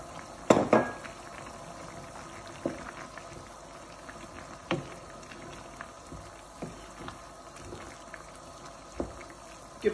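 Chicken jalfrezi sauce with freshly added green chilies bubbles in a pan, a quiet steady simmer broken by scattered soft pops and spits, close by with no talk.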